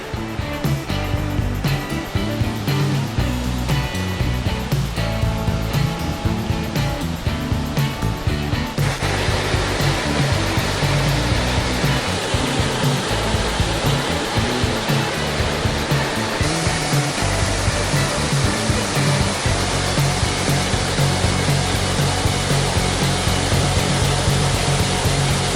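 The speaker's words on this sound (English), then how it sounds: "The falls." Waterfall on a backpacking trail in Bullion Canyon, a loud, steady broadband rush that fills the whole stretch without pause, close by and alone.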